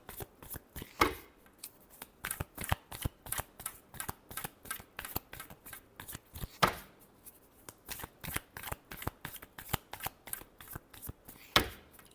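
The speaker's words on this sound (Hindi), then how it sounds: "Last shuffle." A deck of cards being shuffled by hand, a quick run of crisp riffles and slaps repeating in a steady rhythm, close and clear with no talking.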